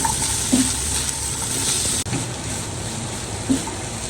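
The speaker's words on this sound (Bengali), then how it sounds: "এগুলো দিয়ে একটু ভেজে দেবো" Cubed carrots and onion fry in a pan with a steady, close sizzle, broken by a few soft stirring knocks and a brief dip midway.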